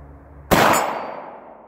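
A single loud, close gunshot from a Marlin rifle fired toward a chronograph, a sharp crack that rings out and decays over about a second, heard alone.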